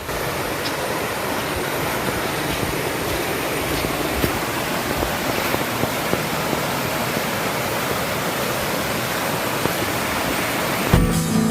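Kumbhavurutty Falls in the Kerala forest pouring steadily, a dense continuous roar of rushing water with no talk over it.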